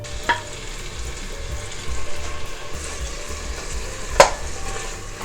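Sliced onions fry in a pan of oil and ghee with a steady, soft sizzle, broken by a couple of sharp clinks or stirs, one early and a louder one near the end.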